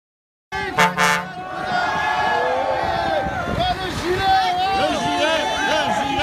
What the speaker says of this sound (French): On klaxonne, allez, on klaxonne.